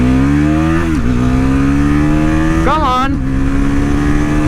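Bajaj Pulsar NS400Z motorcycle accelerating hard through the gears, a loud, close engine whine climbing in pitch with two shift dips, under continuous wind rush, while the rider speaks briefly.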